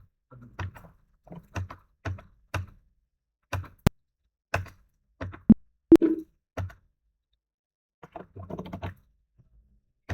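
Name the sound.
computer keyboard typing, pressing Enter key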